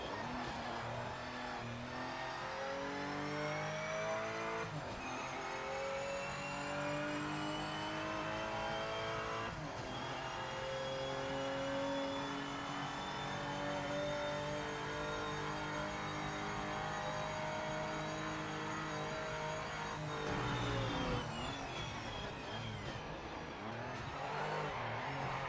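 Race car engine in Project Motor Racing, a sustained loud drone rising and falling through gear changes on the final lap, with a brief tire squeal as the car drifts into a corner.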